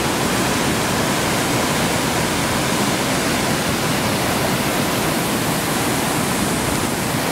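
A heavy, continuous roar of a waterfall about 12 metres high swollen after heavy rain, loud and steady throughout with no voices, close by.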